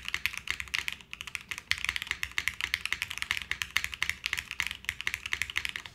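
Rapid, uneven clacking of keystrokes on a Fukuro prototype mechanical keyboard fitted with ABS keycaps, close and crisp, with bursts of fast typing and brief pauses, no voices.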